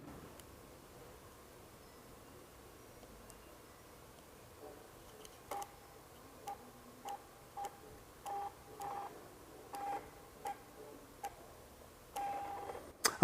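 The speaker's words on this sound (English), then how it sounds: "you'll hear the motor within the flash take the flash magnification away to actually allow the wide angle" A Canon Speedlite flash's zoom motor whirs in a series of short, quiet mechanical bursts at roughly one-second intervals, ticking and buzzing faintly close by in an otherwise hushed room.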